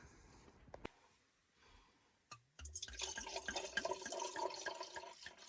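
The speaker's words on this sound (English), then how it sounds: "Pouring a big one." Wine is poured into a glass at a free campsite near Inverleigh, Victoria, a few quiet clicks and a clink before a steady gurgling splash of liquid that continues close and moderately loud to the end.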